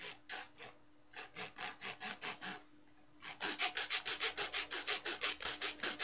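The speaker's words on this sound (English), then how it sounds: "you can hear that I'm sawing" Hand sawing through wood, close and loud: a slower run of about nine even back-and-forth strokes, a short pause, then a faster, stronger run of rasping strokes to the end, with no talk.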